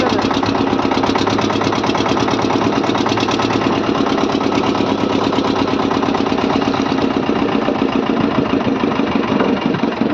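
A fishing trawler's engine idles loudly and steadily nearby, a continuous throbbing drone with no talk over it.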